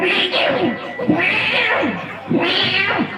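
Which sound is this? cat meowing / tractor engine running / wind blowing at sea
cat meowing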